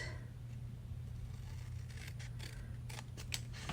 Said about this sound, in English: we're just going to cut the ends off of here